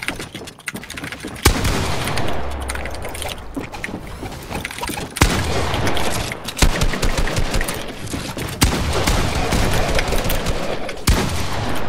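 Rapid bursts of gunfire spraying in a Fortnite match, loud and dense, with sharp cracks at several points against steady in-game noise and no talk.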